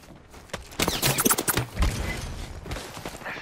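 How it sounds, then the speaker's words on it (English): Enemy gunfire in the Apex Legends battle royale game, a dense volley of rapid shots clustered in the middle and fading into a lingering rumble, with no talking. "They're shooting at me."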